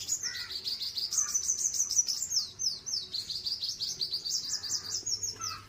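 Small bird chirping steadily near its nest, rapid high tweets repeating throughout, close and fairly loud, with no voices.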